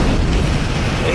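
Explosions in a Star Trek starship combat game, a loud rumbling boom filling the whole brief moment, with no clear rhythm or separate blasts.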